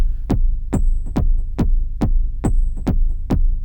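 Deep, throbbing Digitakt II kick doubled into a rumbling bass tail, pulsing in a steady pattern of punchy hits with brief hi-hat ticks between some beats.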